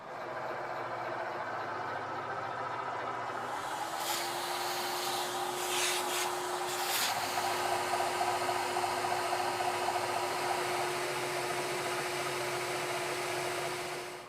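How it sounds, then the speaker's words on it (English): Milling machine cutting with a 1/2 inch finishing end mill: a steady whine and broadband machining noise hold throughout, a tonal cut rising near the middle with a few sharp rattles, no talk. "we're going to take the 1/2 inch finishing end mill and see if we can improve on that."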